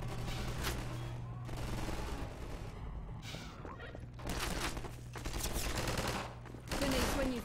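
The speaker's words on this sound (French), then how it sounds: "Il tire dans le mur." Bursts of rapid automatic gunfire hit a wall in Half-Life 2, several fusillades in a row with short gaps, set against a low steady game hum.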